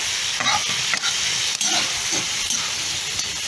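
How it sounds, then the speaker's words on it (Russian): Meat frying in a kazan for Tatar-style pasta, a steady loud sizzle and hiss with occasional scrapes and clanks of stirring, close up and continuous without talk. "Все, жарим."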